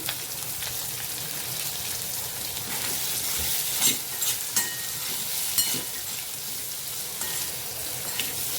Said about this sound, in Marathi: हे सर्व मिक्स करून घ्यायचं आहे थोडीशी कोथिंबीर टाकते